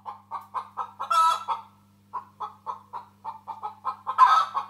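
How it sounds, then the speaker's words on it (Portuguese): A hen clucks in two rhythmic runs of short, evenly spaced calls, each ending in a louder drawn-out cackle, heard close and clear with no talk. "Não, não é o galo. É a galinha."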